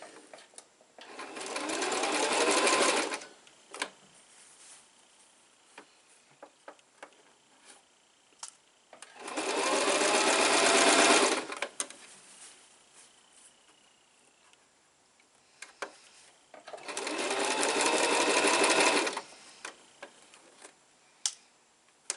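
A sewing machine stitches fabric in three separate bursts of fast, loud, rattling runs, each lasting a couple of seconds, with quiet pauses and small clicks between them.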